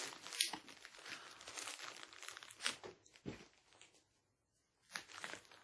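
Plastic packaging on a puzzle box is torn open and handled, giving close crinkling and crunching that comes in bursts, with a brief quiet gap near the end.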